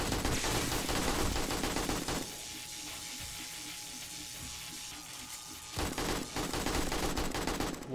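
Faint, distant bursts of gunfire from the video game 7 Days to Die, crackling in sustained volleys at the start and end with a quieter gap between.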